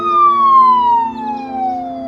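A police siren wails loud and close, its steady descending tone sliding downward over two seconds like a passing car, with no voices over it.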